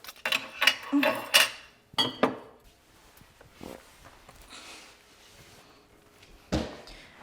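Glass mason jars and lids clatter and clink as someone rummages through a jar cabinet, with a burst of knocks and rattles up close, a pause, then a single louder clunk near the end.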